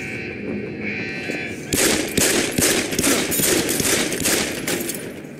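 Rapid automatic gunfire from a player's weapon shooting at a blocking obstacle in Deus Ex: Human Revolution, a loud sustained burst of close shots that starts suddenly after a quieter stretch and runs to the end.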